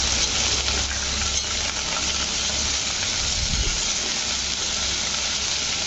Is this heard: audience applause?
no